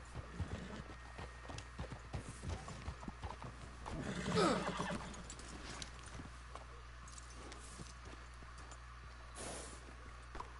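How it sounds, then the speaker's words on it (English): Horses' hooves clip-clop steadily in the Red Dead Redemption 2 video game, close and distinct, with a brief louder burst of movement midway and a faint whinny among the steps. "Let's hitch your horses up ahead."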